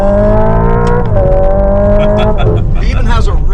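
A Hyundai Ioniq 5 N electric car on a track plays its simulated gear-shift sound, a loud synthetic engine tone climbing and dropping at each shift, with a burst of tire and wind noise toward the end.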